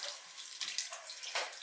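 Kitchen tap water runs and splashes while food is rinsed and drained, a soft continuous rush with a few brief louder gushes, no one speaking.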